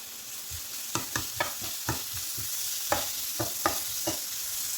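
Tomato, ginger and crushed garlic sauté in a pan, a constant sizzle broken by a series of sharp spoon-against-pan clacks in an uneven rhythm, close and alone.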